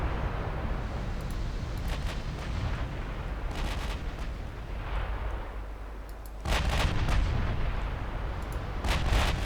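Naval artillery fire in Ultimate Admiral Dreadnoughts, with heavy ship guns booming in repeated deep blasts over a constant rumbling sea-battle backdrop, a louder salvo landing late.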